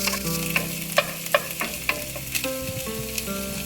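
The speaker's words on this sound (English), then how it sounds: "we'll add the Impossible crumbles and just saute it for about a minute or 2" Plant-based Impossible crumbles sauté in a hot pan, sizzling steadily while a spoon scrapes and taps through them in a few sharp strokes, close up with no talking.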